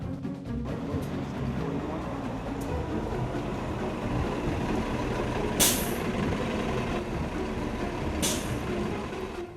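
A city bus idles and rumbles nearby on a street, with two sharp hissing air-brake releases standing out against the steady engine drone.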